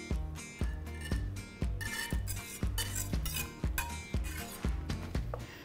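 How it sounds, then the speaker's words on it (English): Cream being stirred into broccoli soup in a pot: a steady rhythm of bright metallic clinks and scrapes, about two per second, fairly close and continuing throughout. "We're gonna give this a little stir to combine."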